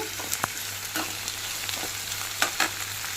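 Vegetables crackle and sizzle in a hot pan, with a steady frying hiss punctuated by occasional clicks and scrapes of stirring.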